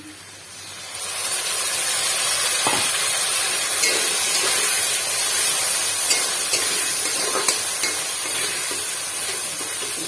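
Masala spices and onion fry in hot oil in a pan for a Bengali pona fish curry, giving a steady loud sizzle with occasional soft scrapes from stirring, with no talking.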